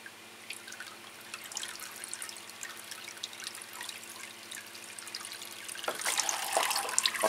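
Water trickles and drips into a container in a greenhouse, a light continuous splashing that grows louder and busier in the final seconds, with no voices.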